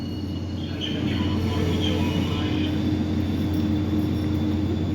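An Orange Line train rolls slowly over a track switch, giving a steady low rumble of wheels and cars with faint higher metallic tones drifting above, growing slightly louder after the first second.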